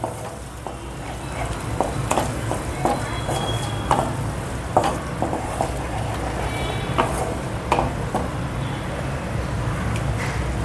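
Masala frying in oil in a pan for soya bhaji, a steady close sizzle with occasional scraping stirs and clicks of a utensil against the pan, continuous and without talk.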